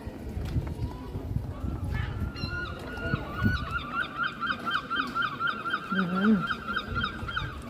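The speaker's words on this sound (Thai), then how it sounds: "เสียงนก" Geese or similar birds give repeated nasal honking calls at the seaside in Tenby, South Wales, clear and fairly close over outdoor background noise, with voices and footsteps underneath.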